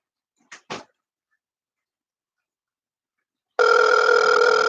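Telephone handset during a callback, with two short clicks followed after a silence by a steady electronic ring tone that starts abruptly and holds.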